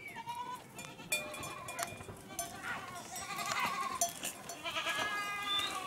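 Large horned goats returning from pasture bleat in overlapping calls against a busy, moderately distant background of animal noise, with occasional voices in between.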